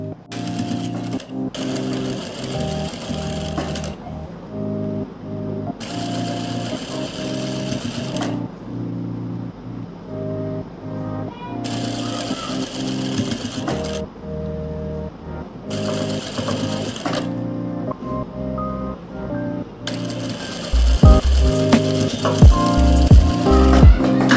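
A sewing machine runs in five separate bursts of stitching, attaching a loop to a garment sleeve with a loose basting stitch. Each run is steady and close, with brief pauses between, and a heavier clatter near the end.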